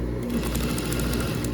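A sewing machine stitches a passport holder in one fast, even run of rapid mechanical clatter, close and steady without any talk.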